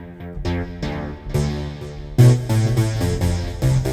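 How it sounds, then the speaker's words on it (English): A loud, bassy Sylenth1 synth plays a melodic lead line with sustained notes and strong low harmonics, alone and with no talking. "Nice bassy lead kind of sound."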